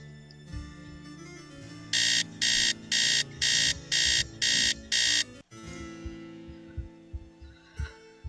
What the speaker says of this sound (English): that alarm would certainly wake me up every morning